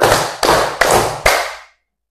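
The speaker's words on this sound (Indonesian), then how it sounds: "Tepuk tangan 3." Four loud, evenly spaced claps from a class clapping together, close and crisp, with the last one fading into silence.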